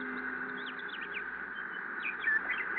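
Several birds chirp and tweet in quick, rising calls on a seaside cliff, fairly close and moderately loud over a steady faint background hum.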